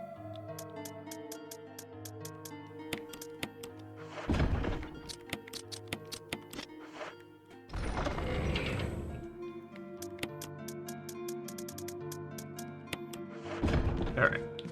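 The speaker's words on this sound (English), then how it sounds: "let's just go ahead and reload shotgun" Shotgun reloading in the Resident Evil Remake video game: mechanical clunks and ratcheting handling sounds in a few bursts, set against a steady musical background.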